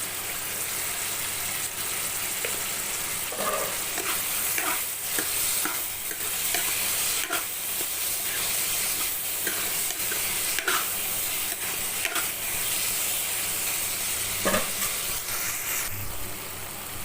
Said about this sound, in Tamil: தக்காளி வந்து நல்லா வதங்கட்டும் இதுலேயே கொஞ்சம் மஞ்சத்தூள் போட்டுக்கலாம்